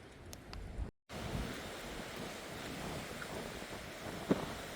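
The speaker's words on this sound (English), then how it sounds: "beautiful waves of wind going through the wheat or the barley" Wind sweeps across open wheat or barley fields on a hillside walking path, a steady, full rushing roar with microphone buffeting and a brief dropout.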